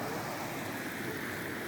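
A river canal running with snowmelt, a quiet steady rush of flowing water heard alone and at low level throughout the short clip.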